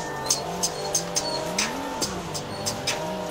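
A racing car engine in third gear in Forza Horizon 5 hums along steadily with a rising and falling pitch, while regular clicking ticks repeat about three times per second over it.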